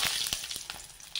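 Mustard seeds and cumin frying in hot oil for crab rasam, a steady close sizzle with small scattered crackles and pops.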